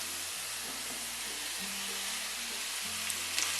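Vegetables sizzle steadily in a hot pan while a chicken vegetable roll filling is cooked, a constant loud hiss with a faint low hum underneath.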